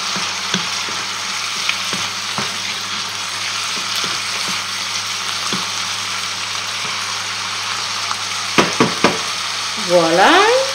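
Chicken with mushrooms frying in a pan for a blanquette, a steady sizzle with occasional clinks of a utensil stirring, and a brief squeak near the end.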